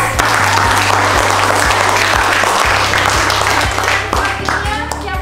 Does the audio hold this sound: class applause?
yes